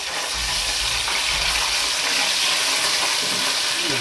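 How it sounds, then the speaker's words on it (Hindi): Chopped ginger and browned onions fry in an oiled pan for an aloo palak dish, making a steady, loud sizzling hiss that fills the whole stretch with no talking. "यहाँ पे हमारी प्याज अच्छे से ब्राउन हो चुकी है और अदरक भी यहाँ पे फ्राई हो चुकी है।"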